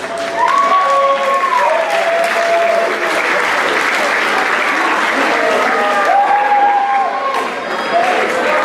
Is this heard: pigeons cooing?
no